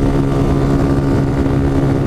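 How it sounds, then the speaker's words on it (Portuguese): A Honda Titan 150 motorcycle engine drones loud and close while riding at speed, a steady low rumble throughout with no talking. "dentro dessas motinhas aqui dá pra nós tirar uns rachas da hora"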